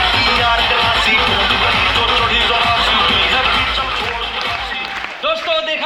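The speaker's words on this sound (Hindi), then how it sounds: "आके ताली बजाते हो आप लोग" A convention crowd keeps up loud, continuous clapping mixed with general crowd noise that stays dense nearly to the end, with voices rising above it as it tails off.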